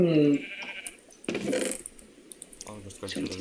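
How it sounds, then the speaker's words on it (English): Sheep bleating in Minecraft during a hardcore survival game, a short wavering bleat near the start followed by other game sounds and clicks. "there's a sheep in our window"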